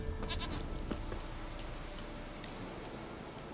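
Goat bleating inside the video game The Witcher 3, faint short cries over a steady low ambient background, with no talking.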